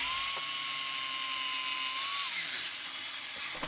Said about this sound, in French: J'utilise maintenant le mode Dedo de ma scie à onglet qui est vraiment très pratique